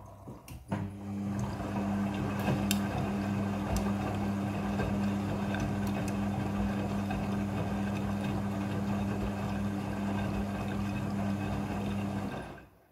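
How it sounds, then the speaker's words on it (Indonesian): Midea front-loading washing machine running its rinse cycle, a steady motor hum with sloshing water and faint clicks, continuous and close for the whole stretch before stopping at the end. "Setelah proses pemerasan selesai, masuk ke proses pembilasan air yang kedua."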